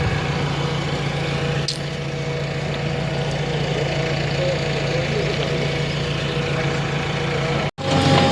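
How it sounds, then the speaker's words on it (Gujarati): A tractor engine idles steadily nearby, a continuous low rumbling drone that holds an even level before cutting off sharply near the end. "ટ્રેક્ટર આવી ગયું ફરતા."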